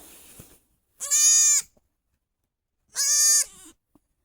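Two separate, loud, high-pitched bleats from newborn baby goats, each lasting about half a second, with silence between them.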